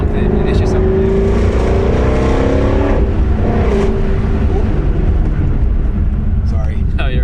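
A sports car engine with stock exhaust runs at full throttle in a steady, loud, close drone with rising engine tones, during a rally of a C7 Corvette Grand Sport and Ford Mustang Shelby GT350R.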